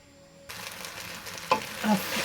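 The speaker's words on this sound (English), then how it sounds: "Frying that now. I love the smell of rice frying in the ghee." Soft sizzling of rice frying in ghee in a pan starts abruptly, with a few stirring scrapes and crackles near the end.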